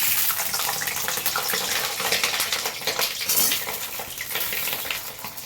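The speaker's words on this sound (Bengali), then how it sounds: "এবার পটলগুলো আমি ভেজে নেব।" Pointed gourd (potol) slit along both sides frying in hot oil, a steady loud hiss and crackle running throughout with no break or talk.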